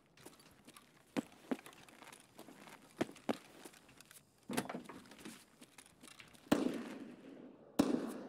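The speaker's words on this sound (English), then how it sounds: "A lot of shots over that way." Scattered distant gunshots in Escape from Tarkov crack out irregularly as sharp broadband bursts, a few louder and closer near the end, over a low ambient background with no talk.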